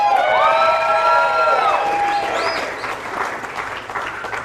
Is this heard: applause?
yes